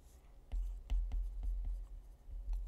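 Pen writing out a chemistry equation in a lecture, a series of distinct taps and short strokes at close range, quiet and alone.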